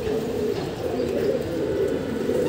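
A steady bed of low pigeon cooing from a flock let out in the evening carries on throughout, several birds overlapping at moderate volume.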